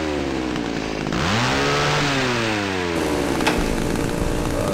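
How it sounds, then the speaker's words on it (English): A chainsaw roars in the horror video game Cry of Fear, its engine pitch swooping up and down as it revs, loud and close throughout with no speech. "Who has a chainsaw?"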